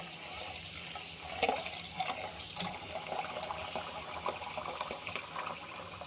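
Water running from a tap and filling while cooking stuffed peppers with tomatoes and basil, a steady trickling splash with small clinks, moderately close, no talk.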